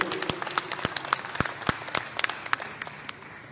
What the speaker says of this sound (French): Donc je demande d'applaudir.